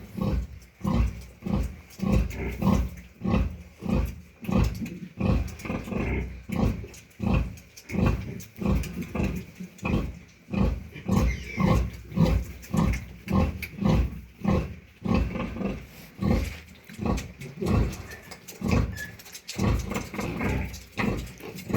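A large white sow grunts steadily in a pig pen, dozens of rhythmic close, loud low grunts in a regular pulse throughout, with no talk.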